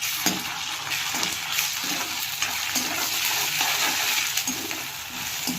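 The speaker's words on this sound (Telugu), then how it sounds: "ఇప్పుడు మనం అల్లం వెల్లుల్లి పేస్ట్ వేసుకోవాలి. కొంచెం కలుపుకోవాలి." Ginger garlic paste is stirred into onions frying in oil in a pan, a continuous close sizzle with a rhythmic scrape of a spoon against the pan repeating roughly once a second.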